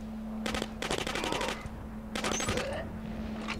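Suppressed gunfire from the video game Killzone Mercenary sounds in two rapid bursts of muffled automatic shots, separated by a short pause, over a steady low hum.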